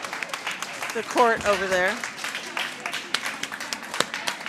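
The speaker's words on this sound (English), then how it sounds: "One of the teams is coming in, I think. That's why we're clapping." A crowd at a curling event applauds as a team walks in, a steady patter of clapping under close talk throughout.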